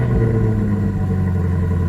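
A 2019 Lamborghini Huracan Performante running close by, its engine giving a deep, steady idle rumble with strong low tones and no voices.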